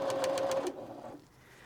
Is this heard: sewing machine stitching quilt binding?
yes